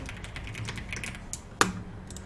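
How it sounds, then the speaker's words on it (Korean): Keys are pressed on a computer keyboard in a word-processor lesson, entering a Ctrl+1 shortcut. Faint tapping leads into one crisp, close keystroke. "키보드에서 컨트롤 키 누른 상태에서 숫자 1을 눌러줄 거예요"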